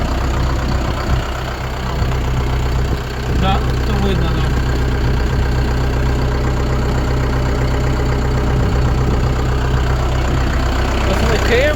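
A tractor engine idles in a steady low rumble throughout, with a person speaking briefly over it.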